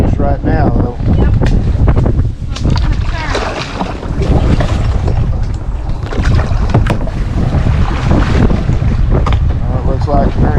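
Steady wind buffeting the microphone while kayaking on open water in mangroves in the Florida Keys, a constant roar with voices talking over it.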